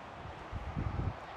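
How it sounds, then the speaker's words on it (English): Outdoor wind gusts buffet the microphone as a low, uneven rumble with light rustling. It swells toward the middle and stays fairly steady, with no voices. "okay, it's getting windy"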